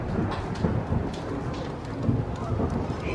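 Heavy rain drums steadily on a lodge roof during a Florida-style thunderstorm, with thunder rumbling through the downpour and a loud crack cutting in partway through.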